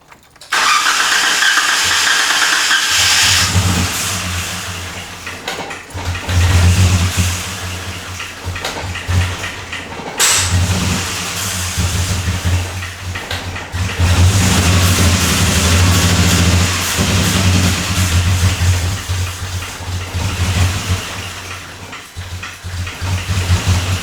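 A Jeep engine with a cylinder 3 misfire cranks, catches and keeps running, a loud, rough, uneven drone with a heavy low rumble that stumbles and surges for most of the stretch.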